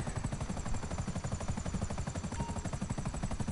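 Video game helicopter flying over the sea, a steady, loud rotor thrum with rapid regular blade chop throughout, low engine drone beneath, no talking.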